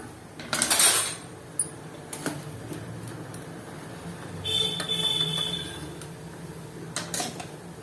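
Light metallic clinks and scrapes of a knife against a pot of boiling potatoes, a few scattered taps with a short clattering stretch in the middle, quiet kitchen background.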